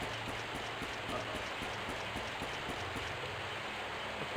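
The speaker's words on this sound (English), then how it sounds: "The rain here is poison." Poisonous rain pours steadily in the fantasy RPG Grandia HD Remaster, a dense, even hiss of falling water with faint rhythmic ticks running underneath throughout.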